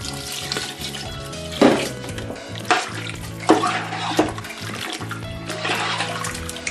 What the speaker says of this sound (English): Once you get the okra in, all you're going to do is just stir this in together.